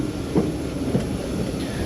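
Subak Raftar railcar train moving off from Lala Musa junction, a steady low rumble of rolling wheels and carriage with a couple of soft knocks, heard from inside, no talking.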